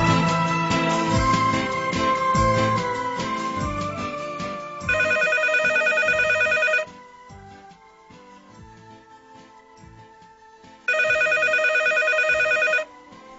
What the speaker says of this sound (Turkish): Bir gün okuldan gelen bir telefonla irkilir.